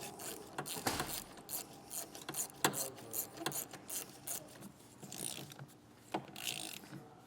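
A 13mm socket on a ratchet wrench tightens the mounting nuts of a Westin EXP truck topper on a 2025 Ford Maverick. Its quick pawl clicks come in short, uneven bursts, close and fairly quiet, with no voices.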